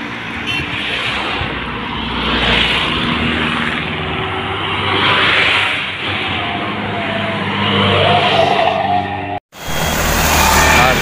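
A Hino 500 trailer truck, sunk into loose, unsettled excavated ground, roars and strains while its wheels spin, with loud surging revs over several seconds, a sudden brief cut, then more revving.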